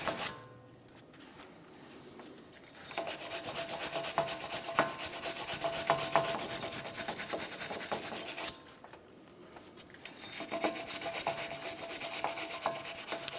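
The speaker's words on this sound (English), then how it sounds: "Whatever we can't get to with this tool, we'll then transition over with our wire brush and just get on the small areas." Wire brush scrubbing rust and corrosion off a wheel hub of a 2015-2019 Hyundai Sonata during a front brake job, close steady rapid scratching strokes in two bursts with a short pause between.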